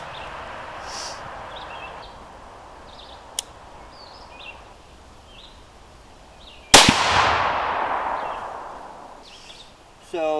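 A single loud, sharp 22 Creedmoor rifle shot with an 80gn ELDM load, fired during a pressure test, cracks outdoors and trails off in a long echoing decay. A faint click comes earlier amid quiet outdoor background.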